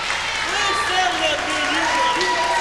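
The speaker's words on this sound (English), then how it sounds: "It is really strange to hear the idiots at ringside cheering and applauding the Texas Outlaws." A wrestling crowd at ringside cheers and applauds in a dense, steady roar that fills the whole clip, with a commentator's voice talking over it.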